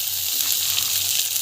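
Garlic, ginger-garlic paste and green chili sautéing with chana dal and urad dal in a hot oiled pan give a steady, close hissing sizzle with no speech.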